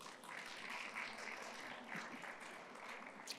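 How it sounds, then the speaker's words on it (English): Steady round of applause from a conference audience at a hydrogen business forum, welcoming a company CEO to present; a continuous, even wash of many hands clapping, faint and distant in the room. "we can give him a round of applause"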